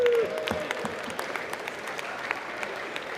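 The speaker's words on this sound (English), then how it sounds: "Can we get a round of applause?" Applause on the US House floor, scattered claps from members in a large chamber, fairly faint and steady after a brief voice at the start.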